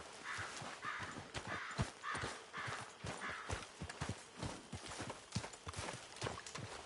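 Rhythmic clip-clop of horse hooves at a steady walking pace in Red Dead Redemption 2, distinct repeated thuds, fairly close, with faint calls in the background.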